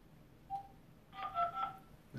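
Telephone dialing tones sound as a call is placed: a single short beep, then a quick run of several keypad tones, quiet against faint room noise, with a brief thump at the end.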